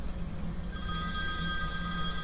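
A telephone rings inside a house in the horror video game When the Darkness Comes, a steady electronic ring heard alone at moderate volume over a low ambient hum.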